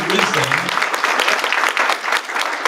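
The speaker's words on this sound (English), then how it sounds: "Give them a round of applause for their nuggets of wisdom" Loud, dense applause from a conference audience at an entrepreneur summit, honoring the panelists; a voice is briefly audible at the start before the clapping fills the room.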